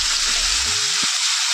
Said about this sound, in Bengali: গাজর আর আলুটা আমি এর মধ্যে দিয়ে দেবো।